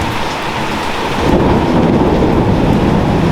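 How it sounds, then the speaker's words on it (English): A thunderstorm brings heavy rain hissing steadily on surfaces, joined by a deep rolling thunder rumble that swells partway through and lingers to the end. "we had more lightning and thunder"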